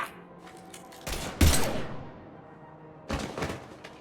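Gunfire in Mass Effect 3 comes in two short, loud volleys of rapid shots with a thud between them, separated by a quieter stretch and heard without talk.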